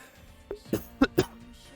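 A man coughs four times in quick succession, the bursts short and fairly close, with no speech over them.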